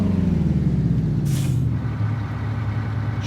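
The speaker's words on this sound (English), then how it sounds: "This truck has phenomenal brakes." Truck air brakes in American Truck Simulator, a single short sharp hiss of released air over the loud, steady low rumble of an idling diesel engine.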